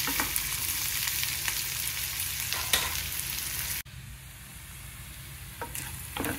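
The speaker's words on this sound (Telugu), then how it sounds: "ఉల్లిపాయ బాగా వేగిన తర్వాత బీరకాయ ముక్కలు వేసుకుందామండి." Onions and ridge gourd pieces fry in a pan with a steady, crackling sizzle and occasional stirring scrapes; the sizzle drops abruptly to a quieter level partway through, then continues.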